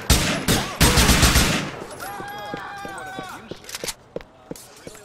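Gunfire in Grand Theft Auto 4: several loud, sharp shots crack in rapid bursts up front, then trail off into scattered lighter pops while a voice calls out over the action.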